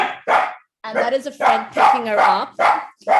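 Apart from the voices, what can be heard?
dog barking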